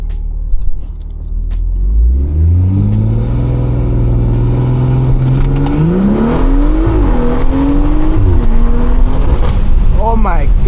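BMW 340i with a B58 engine and aftermarket intake and exhaust accelerating hard from a roll, a loud rising engine note climbing through gears with brief shifts, heard from inside the car.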